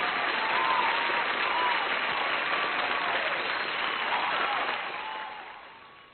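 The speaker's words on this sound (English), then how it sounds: "We need to kick that applause going." Studio audience applause on a talk show, loud sustained clapping that holds for several seconds and then tapers off toward the end.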